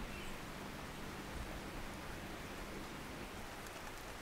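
Rain falling steadily in the temperate coastal bush of Cape Otway in southeast Australia, an even, soft hiss of drops on foliage that stays constant and quiet throughout, with no voices.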